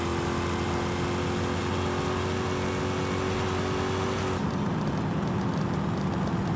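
Engine of a supercharged car in Forza Horizon 5 droning steadily as it drives down a road, a loud continuous hum with a held tone, shifting character near the end.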